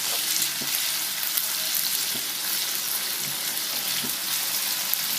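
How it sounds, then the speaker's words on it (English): Ginger-garlic paste fries in hot oil, giving a soft, continuous sizzle with a few faint clinks of stirring, and no voices. "Fry it for a minute."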